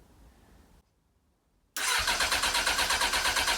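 Suzuki Bandit motorcycle with a bypassed clutch lever and unprimed carburettors fires up after a quiet pause, catching abruptly and settling into a loud, steady, pulsing engine note close by.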